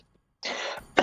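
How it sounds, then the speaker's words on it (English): A single close cough bursts out after a brief silence, followed by a second short throat-clearing hack, loud and isolated with no talking. "Everyone is coughing."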